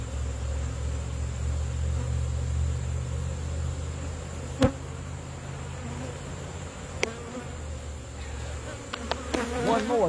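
Honey bees swarm a hive frame with a close, steady buzzing drone that runs throughout, broken by a few sharp clicks and handling knocks near the end.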